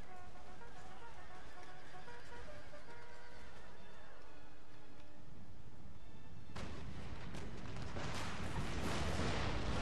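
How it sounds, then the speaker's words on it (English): Artillery barrage in a Little Bighorn battle video game, heard as a loud burst of dense, rumbling blasts that starts partway through and follows horse neighing and battle ambience. "There we go. That's a decent barrage."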